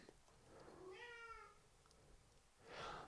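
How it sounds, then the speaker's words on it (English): Pet cat meowing indoors, one drawn-out rising and falling meow, faint and somewhat distant, followed by a brief softer sound at the end. "there's my cat. I know you heard that."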